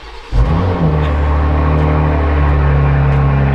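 Car with a push-button start firing up: a click, then a loud engine catching and settling into a steady, heavy idle rumble close by.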